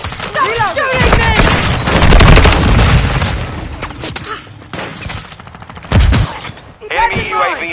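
Rapid gunfire from a Call of Duty Modern Warfare 2 multiplayer match on PS5, with dense bursts of shots and booming impacts at close range and a brief renewed volley near the end. Game voices talk over the shooting.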